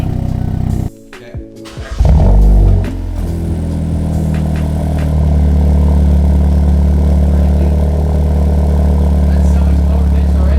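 Hyundai Elantra N with its stock exhaust and the valves open idles close by, a loud steady low rumble after a brief burst of noise and a sharp rev near the start.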